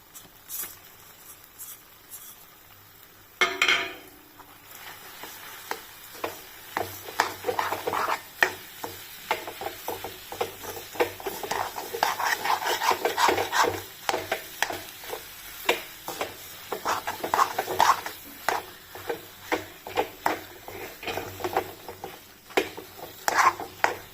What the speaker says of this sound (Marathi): आपला खवा परतत आलेला आहे ते साखर घालून घेऊ